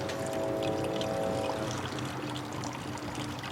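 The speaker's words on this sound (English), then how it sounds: "And this water shall be given to all creatures, great and small." Water is poured during a pagan wedding ritual, a soft continuous trickle and splash at moderate distance, fairly quiet, with a faint tonal hum early on and no speech.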